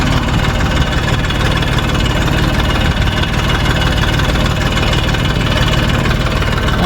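A tractor engine idles steadily throughout at a farm field during sowing, a constant low chugging rumble close by, with no voices.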